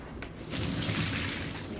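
Water from boiled shrimp draining off, a soft trickle that swells into a steady, close splashing pour after a brief quieter start.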